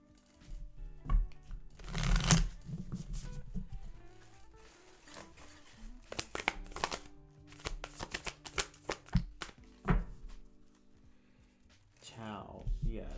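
Starseed Oracle deck cards being shuffled by hand, with bursts of riffling and soft rustles, a loud flurry early on and scattered handling after, while a voice talks over part of it.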